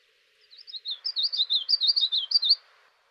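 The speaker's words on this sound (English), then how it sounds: "So that is the common yellow throat." Common yellowthroat song: a clear, near series of rapid, rolling high warbled phrases repeated for about two seconds, alone against a quiet background.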